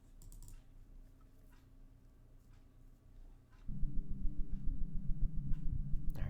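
Computer keyboard typing and mouse clicking close up: scattered soft clicks at first, then a dense, steady run of keystrokes that grows louder in the second half.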